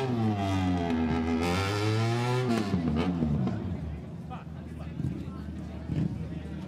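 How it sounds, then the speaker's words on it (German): A custom motorcycle with a hand-beaten aluminium chassis, built by VTR Customs in Switzerland, rides past nearby at Glemseck, its loud engine note rising and falling as it passes, then fading under crowd noise. "das zweite Motorrad, aufgebaut von VTR Customs in der Schweiz"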